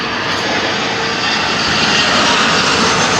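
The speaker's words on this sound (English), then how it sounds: "We've got an aeroplane going overhead." A low-flying aeroplane passes overhead at a weightlifting session. The engine roar is loud, steady and broadband throughout and builds slightly toward the end, with no voices over it.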